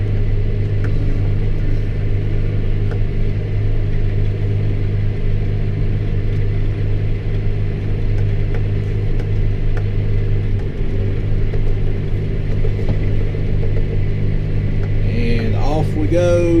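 A tractor engine drones steadily in four-wheel drive while seeding a field at night, a loud continuous low rumble from inside the cab, with someone speaking briefly near the end.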